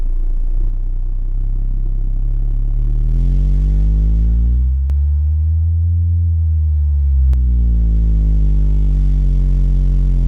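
Two Resilient Sounds Gold V2 15-inch subwoofers powered by a Taramps Big Boss 8 8000-watt amplifier play a loud, deep bass sweep that dives low and climbs back up, booming and rumbling close by without speech.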